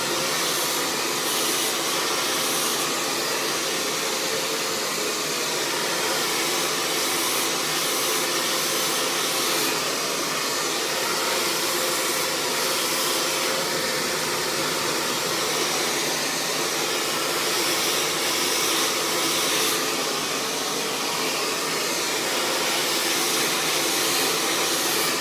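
A hair dryer blows steadily and loudly for the whole stretch while hair is being blow-dried and stretched smooth with a brush, a constant close-up whoosh with slight dips as the airflow moves.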